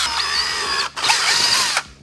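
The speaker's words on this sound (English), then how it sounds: "Now we're gonna swap out that 1/8 inch drill bit for a 3/8." A power drill fitted with a 3/8 inch bit bores holes in a CR250 motorcycle part, running as a steady loud whine that dips briefly, then surges again with a rougher cutting tone before stopping.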